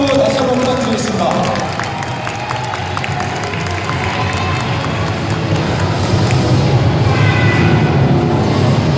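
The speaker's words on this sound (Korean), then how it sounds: "박수 다시 한번 부탁드리겠습니다." A crowd applauds at a taekwondo demonstration. Dense clapping and cheering run steadily for several seconds, loud and close, with some voices mixed in.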